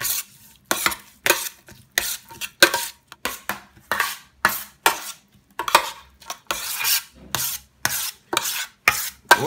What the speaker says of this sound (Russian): И хорошенько перемешиваем.